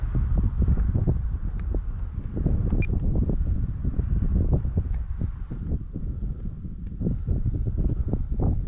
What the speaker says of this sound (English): Boy, is it windy today.